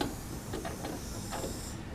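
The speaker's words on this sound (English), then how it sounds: "So I'll just break the vacuum." Air hisses into a laboratory flask as its vacuum is broken during isolation of cold morpholine solid, a steady, moderate rushing hiss lasting about two seconds with no speech.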